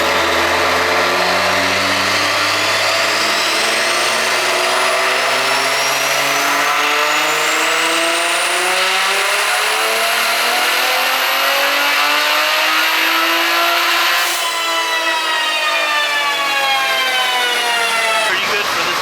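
A BMW B58 Gen 2 engine on a stock unopened block screams through a full dyno pull, its pitch rising steadily for about fourteen seconds, peaking, then dropping as the throttle lifts, very loud and close throughout.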